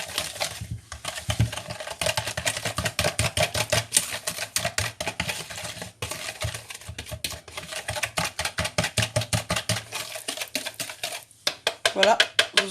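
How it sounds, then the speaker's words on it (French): Sugar and vanilla sugar are stirred together in a bowl to make caramel for an apple tart, giving rapid, regular scraping and clinking strokes of a utensil against the bowl, fairly close, with brief pauses, while a person talks in between. "Sucre, sucre vanillé. Je mélange tout."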